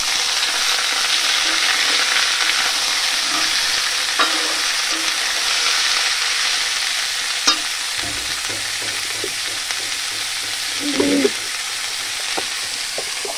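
Chopped onion and tomato frying in a pan for a capsicum and boal fish dish, a loud steady sizzle with intermittent stirring scrapes and a few clinks near the end.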